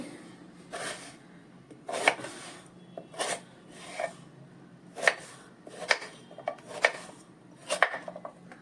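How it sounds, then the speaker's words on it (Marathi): A knife cuts sweet potatoes into square pieces on a board in a home kitchen. About eight distinct chopping knocks come at an irregular pace, close and fairly crisp. "हे बघा मी आता रताळी कापून घेते"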